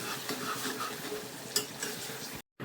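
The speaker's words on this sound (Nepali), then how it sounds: "अब चाहिँ गोलभेडा हाल्ने पालो आइसकेको छ।" Chopped tomatoes hit a hot pan of spices, a quiet broadband sizzle with light stirring scrapes and a sharp clink near the middle, followed by an abrupt brief cut-out at the end.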